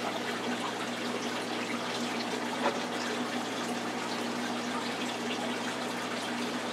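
Steady, rushing flow of water from a garden waterfall feature, even and continuous, like a small cascade splashing nearby with no other sounds.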